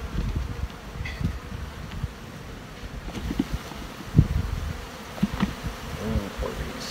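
Honey bees buzz faintly at a hive in cold weather, a thin intermittent hum mixed with wind noise and scattered low bumps and knocks, with no clear voices.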